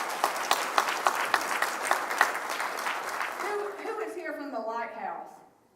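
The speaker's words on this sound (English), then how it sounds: "Give yourself some applause for that." Audience at an awards banquet clapping, dense applause with a few sharp claps that fades out as a voice starts speaking near the end.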